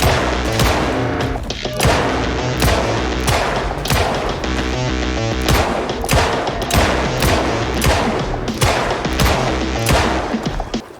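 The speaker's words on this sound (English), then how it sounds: "with all those gunshots" Rapid volleys of gunfire from NPC survivors shooting at zombies in Project Zomboid, loud repeated shots in dense bursts with brief gaps, continuing throughout.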